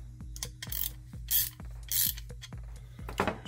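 The ratcheting bolt end of a Klutch screwdriver clicks in a steady, evenly spaced rhythm, each pawl tick close and crisp, with soft rubbing swishes between strokes and no voices.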